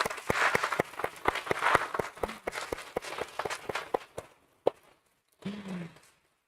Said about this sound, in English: let's have a huge round of applause for RK Swamy Limited